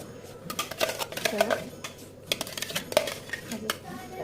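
Ground jackfruit mixture is scooped from a grinder jar into a pot, giving irregular clinks, taps and scrapes of metal utensils against the vessels, with a voice heard at times.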